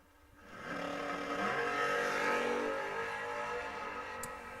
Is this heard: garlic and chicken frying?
no